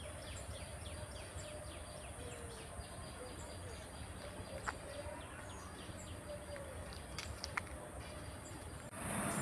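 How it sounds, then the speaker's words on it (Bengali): A freight train rolls past along a railway line beside a farm stay near Kharagpur, a faint, steady distant rumble with scattered bird and insect calls over it. "রেল লাইনের পাশেই একদম, এই যে মালগাড়ি যাচ্ছে।"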